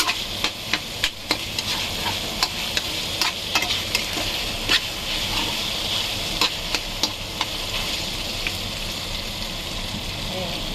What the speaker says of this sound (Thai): ใจเย็นๆค่อย ๆ ผัดนะคะ